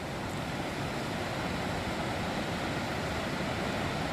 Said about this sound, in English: The sound of the river roaring below.